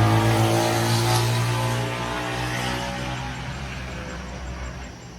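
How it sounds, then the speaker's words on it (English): A motorcycle passes on a nearby road, its engine a steady drone that is loudest at first and then slowly fades as it moves away, with no speech. "There's a motorcycle."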